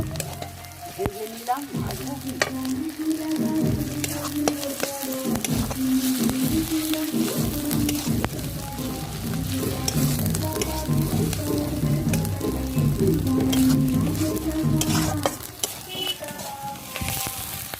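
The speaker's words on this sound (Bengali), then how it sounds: "আদা রসুনকেও একসঙ্গে পেঁয়াজের সঙ্গে ভাজবো" Ginger paste, garlic paste and chopped onion fry together in a pan with a continuous loud sizzle, broken by repeated scraping stirs of a spatula against the metal, close and steady throughout.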